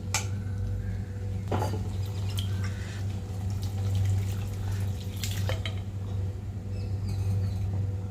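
Water poured from a tap into a pressure cooker used for boiling lentils while it is rinsed, a steady close running-water wash over a low hum, with a few brief splashing bursts.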